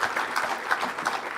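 Audience applause for a human resources speaker at a Kenya School of Government centenary session, a brief steady wash of many hands clapping in a hall.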